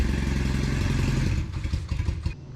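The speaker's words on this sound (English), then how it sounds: "So now that you're on the bike and it's running" An old motorcycle engine runs steadily at idle, a loud continuous mechanical drone with light clatter that loosens into uneven chugging toward the end.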